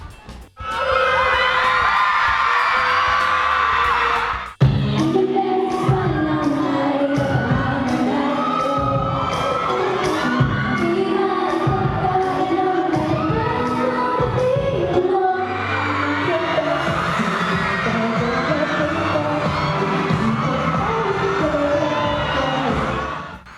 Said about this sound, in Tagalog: sobrang lakas din ng sigawan ng mga fans sa Marilao